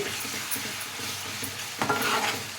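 Ginger garlic paste is stirred in a pan for an Odisha-style fish curry, giving a soft, steady sizzle with scraping strokes of a spoon and a brief clatter of utensil on metal near the end.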